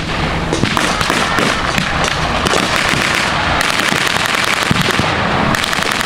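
Tank guns and battlefield fire at a WWII battle reenactment in Rockford, Illinois, produce a loud, unbroken barrage of cracks, pops and heavy thumps that layer densely across the whole stretch.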